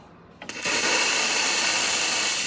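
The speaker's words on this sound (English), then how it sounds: "Nice strong steam." Steam wand of a Quickmill Vetrano espresso machine after a full tune-up, hissing on abruptly with a loud, steady, broadband rush that holds without a break.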